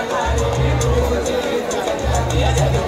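Pilgrims throng Jejuri temple on New Year's Day, their voices blending into a loud, continuous hubbub close by, with deep pulsing thuds coming in short bursts beneath the chatter.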